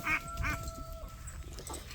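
Duck quacks repeated in short bursts, several loud calls at the start and end with gaps between, near and clear, set against a steady background hum.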